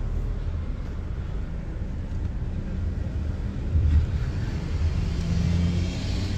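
Car pulling over by a gas tank, a continuous low engine rumble with road and wind noise, swelling slightly as it slows, close and steady.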